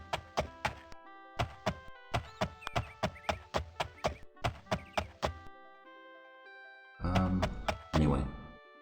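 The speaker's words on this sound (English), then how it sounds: "The horse is very loud, isn't he?" Hooves of a horse in the video game Daggerfall Unity clip-clop in a steady, loud, close rhythm for several seconds, then stop; after a pause comes a brief, loud whinny-like burst.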